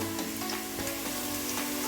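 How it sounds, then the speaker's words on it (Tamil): Onions sauté in a pan for a mushroom biryani, giving a dense, continuous crackling sizzle close by with faint stirring ticks and a low steady hum underneath. "வெங்காயம் நல்லா வதங்கிடுச்சுங்க."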